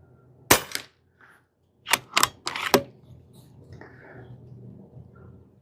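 A Pinty 9-pellet .22 calibre bullpup PCP air rifle fires sharp, snapping shots: one, then after a pause a quick run of four, each a short crack with little echo.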